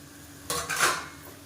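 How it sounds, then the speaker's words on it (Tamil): Soya chunks and fresh peas are tipped into a cooking pan for a kurma, making a short clattering scrape of metal and food against the pan, fairly close and without talk. "நம்ம புழிஞ்சு வச்சுருக்கிற இந்த மீல் மேக்கரையும் சேர்த்துக்கலாம்."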